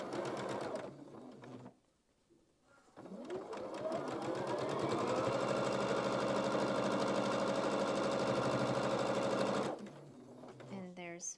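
A sewing machine stitches quilt units onto either side of a baby quilt block, running steadily and close for several seconds after brief handling noises, with a short pause before it starts.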